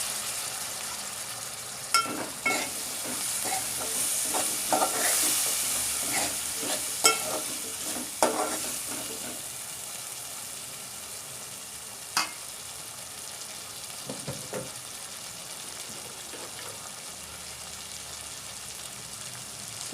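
Potatoes fry with green chillies in a pan, a continuous sizzle broken by a busy run of clattering spoon stirs early on, then sparser knocks as the frying settles.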